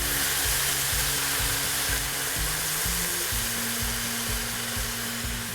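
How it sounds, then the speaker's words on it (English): Red wine hits a hot pan while braising pork ragu, making a loud, continuous broadband sizzle that holds steady throughout, with a faint low tonal hum beneath and no talking. "Now I'll deglaze with red wine."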